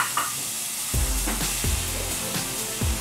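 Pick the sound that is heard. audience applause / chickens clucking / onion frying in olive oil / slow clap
onion frying in olive oil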